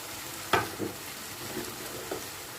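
Rice with lightly cooked vegetables and chicken mince is stir-fried in a pan, giving a soft, faint sizzle with a few sharp spatula scrapes and taps spaced through the clip.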